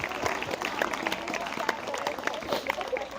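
An audience at a talk on gut health bursts into loud, sustained clapping, many hands beating in a fast, uneven patter up close.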